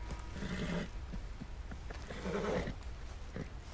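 A horse whinnies in Red Dead Redemption 2, twice, at moderate distance, the calls mixed with soft hoof clops and outdoor ambience, with no talking.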